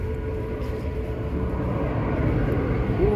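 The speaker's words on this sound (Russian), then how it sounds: "Самолеты идут на посадку, шум слышно." Airplanes descending to land pass over the Park of Southern Cultures, heard as a steady, distant low drone that swells slightly toward the end, with no talking.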